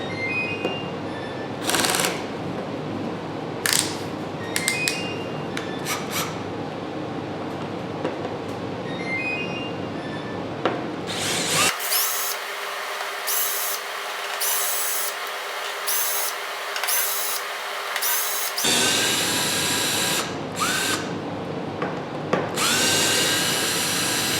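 A power driver whirs in repeated bursts while backing out small T20 screws from the fuel line connector on an '08 Harley-Davidson Rocker C, close up in a workshop, with short pauses and one longer steady run.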